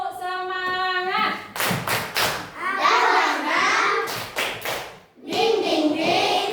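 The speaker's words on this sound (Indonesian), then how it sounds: "coba dulu tepuk semangat" A group of schoolchildren does a rhythmic spirit clap with their teacher, giving sharp, patterned claps and thumps in quick clusters, with children's voices chanting along between the beats.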